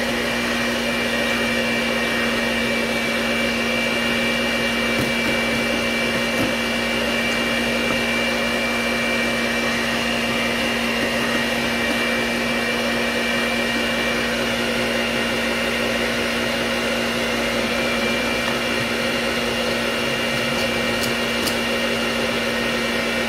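Electric stand mixer beating cake batter, a steady, continuous motor whine with an even hum, close and unchanging throughout with no talk.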